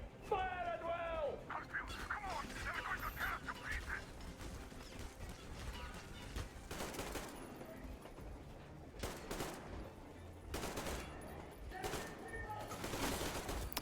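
Rapid bursts of gunfire in the video game Metro Exodus, set in Moscow, crack out in several clustered volleys over a busy background of game noise and music, with loud repeated shots in the second half.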